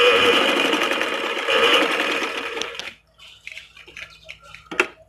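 Close, loud whirring of a sewing machine stitching a seam on a ladies' kurta, running for about three seconds before stopping, followed by a few small clicks and handling sounds.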